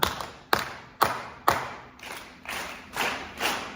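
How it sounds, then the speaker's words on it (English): An audience claps in unison at a keynote event, eight sharp, evenly spaced clap onsets forming a steady rhythmic pattern, fairly close and clear with no talking. "4 claps."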